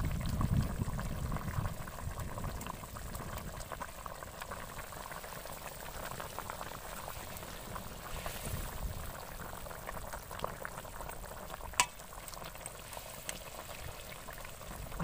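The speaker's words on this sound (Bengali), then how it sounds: "মাছ দিয়ে আমি আর মিনিট পাঁচেক ফুটিয়ে নেবো" Fish curry with kudri bubbling in a pan, a steady close simmer of boiling liquid with small pops and one sharp clink partway through.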